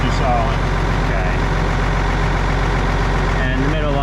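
A Ford TW25 tractor engine idles steadily close by, a continuous low throbbing rumble with faint voices in the background.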